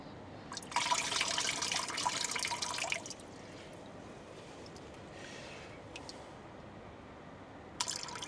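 Close splashing and swishing as Australian pay dirt is washed out in water before gold panning, a few seconds of vigorous sloshing, then quiet trickles and drips with another brief splash at the end.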